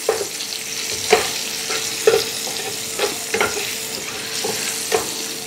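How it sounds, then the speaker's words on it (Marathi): Eggs fried and stirred in oil in a pan for a dhaba-style egg masala: a steady oily sizzle with a scraping stir roughly every second, close and clear, with no talking. "अगदी एक मिनिट भर आपल्याला ही अंडी या तेलामध्ये परतून घ्यायची आहे"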